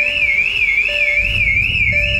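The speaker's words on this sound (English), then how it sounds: "And the alarm goes off." A Bentley car alarm going off as the car is started, a loud warbling whistle-like tone rising and falling steadily alongside a pulsing lower beep, close and continuous throughout.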